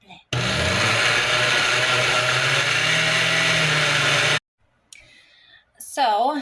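A blender whirs loudly for about four seconds while blending sticks of butter for strawberry jam bars, then cuts off abruptly, followed by brief rustling and a short voice.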